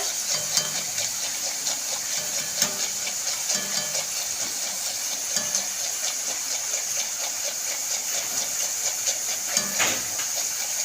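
Shredded potatoes deep fry in hot oil with a steady, close sizzle and hiss, while occasional clinks and scrapes come from stirring.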